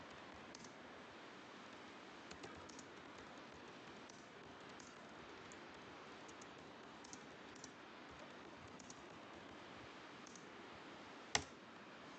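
Soft, scattered keyboard clicks of someone typing on a computer, faint and close, with sparse irregular taps and one sharper key strike near the end, like a press of the enter key.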